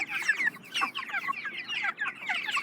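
Six-week-old broiler chickens on a free-range farm cluck and chatter busily close by, a dense flock of overlapping calls with no talking.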